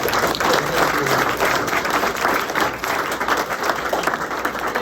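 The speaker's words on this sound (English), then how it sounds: "let's give him a rousing applause" A roomful of people applauding at a home ownership program launch event, a thick steady wash of claps holding evenly throughout, fairly close.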